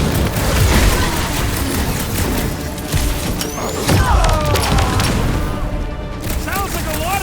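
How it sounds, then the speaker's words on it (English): Sustained gunfire and booming explosions rumble through a Guardians of the Galaxy video game battle, with dense thuds and crackling bursts alongside character voices speaking over the fight. "Sounds like a lot of Flark and gunfire."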